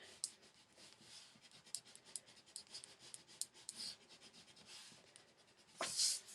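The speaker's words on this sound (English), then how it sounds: "So I'm going to rub out now the ones that we originally had, so you can see how that works." An eraser rubs out pencil dart lines on a paper dressmaking pattern, making soft, close scratchy strokes in quick repeated bursts, with a louder rustle near the end.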